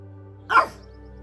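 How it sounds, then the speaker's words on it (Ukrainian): A 12-year-old guard dog at a rural home gives one short sharp bark, moderately loud and a little distant, over a steady low hum. "Її надійна охорона це 12-річна собака Кнопка."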